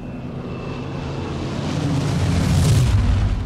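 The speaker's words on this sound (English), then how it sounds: "Rolls-Royce Merlin engines. Sweetest sound you could hear out here." Aircraft powered by Rolls-Royce Merlin engines in a flight video game, a broad roaring drone that swells louder over a few seconds as if passing close, with no talking.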